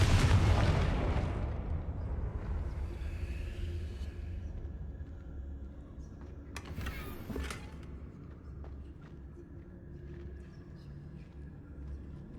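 A Confringo blasting spell explodes in Hogwarts Legacy with a loud burst that rumbles away, followed by a second sharp crack and fading low rumble.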